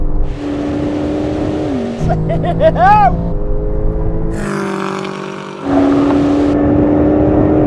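Engines of a BMW M5 and Porsche 911 Turbo S roar loudly in a drag race, revving through rapid gear changes with shifting tones, heard close from inside a car over excited talk.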